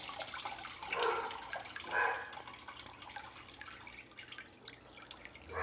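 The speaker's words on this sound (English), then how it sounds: "Let the chiller drain for a little bit. Goes in the sink." Water from a beer wort chiller drains into a sink during an amber ale brew day, a soft running trickle with a few louder splashy surges, fairly quiet and with no talking.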